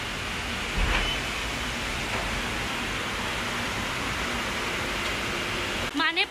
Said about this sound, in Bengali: এই সবে বৃষ্টিটা চালু হলো।